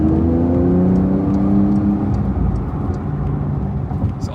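Porsche 911 Turbo S (992) accelerating, a steady, loud engine drone with rising tones heard from inside the car, smooth and continuous throughout.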